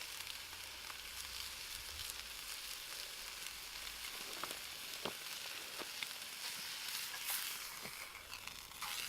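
Meat frying in its own rendered fat over fast, high heat at a lunch cookout, giving a steady, close crackling sizzle with scattered sharper pops and no talking.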